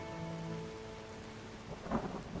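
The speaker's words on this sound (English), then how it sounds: "That's thunder, darling." Thunder from a rainy storm in the fantasy game Enderal: soft rain hiss under a faint tonal ambience, then a low rumbling roll swelling near the end.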